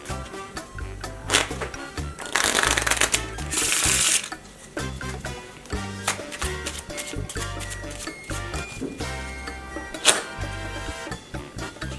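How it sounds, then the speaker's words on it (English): A deck of playing cards shuffled during a card trick, with crisp riffling bursts over steady background music, a couple of longer brisk riffles standing out around the middle. "I will hide the 4 of clubs and shuffle the deck properly."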